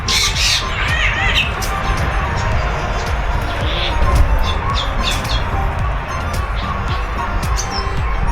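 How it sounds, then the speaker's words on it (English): Birds squawk and chirp in a busy aviary at the Birds at Thirty bird park in Harare. Sharp calls rise over a constant, dense background of other birds and a murmur of visitors. "So you can see there are so many beautiful birds here at Birds at 30."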